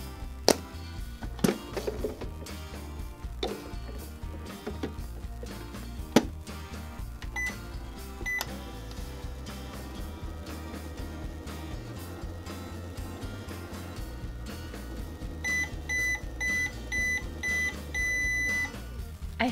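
A household microwave oven heating Play-Doh hums under scattered clicks and knocks, then gives a series of evenly spaced electronic beeps near the end.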